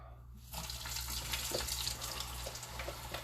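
Chicken pieces drop into hot oil and start bubbling right away for fried chicken poutine, a close, steady sizzle with crackling bursts that begins abruptly.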